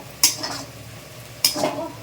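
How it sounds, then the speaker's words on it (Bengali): A spoon stirs egg bhurji in a frying pan with two short scraping strokes about a second apart. A low sizzle of frying continues between them. "এবার আমি এটাকে নেড়ে নেবো"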